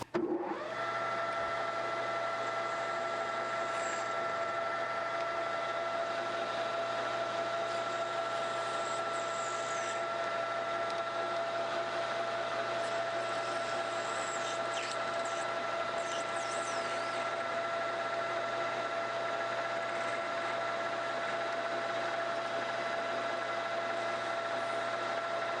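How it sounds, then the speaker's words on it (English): A lathe turns and rounds off a piece of wood while making a caulking tool, a steady whining motor hum with a constant tone that runs unchanged and fairly quiet from start to finish. "So let's put this in the lathe, and we'll round it off in the lathe first."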